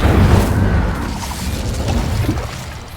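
An Incendio fire spell blast in a Hogwarts video game, a dense low whooshing roar of flame with a brief crackling burst, loud and sustained before tapering off slightly.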